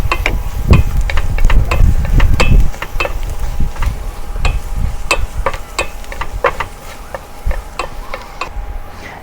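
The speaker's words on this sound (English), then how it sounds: "With a clean pan, saute some minced garlic" Minced garlic sautéing in a clean pan, a soft sizzle under sharp clicking taps of a utensil stirring and scraping against the pan, with a heavier clatter at the start.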